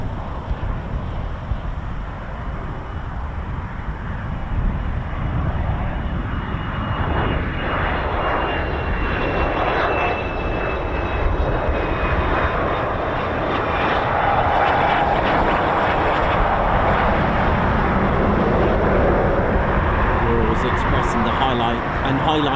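Training aircraft engine at RAF Waddington droning loudly and continuously nearby, a steady roar with wind buffeting and a faint higher whine sliding across it.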